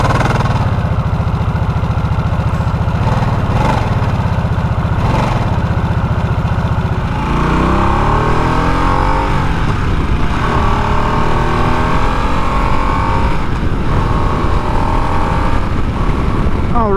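A motorcycle starting from its push button and settling into a steady, loud idle, the engine rumbling close and continuous throughout.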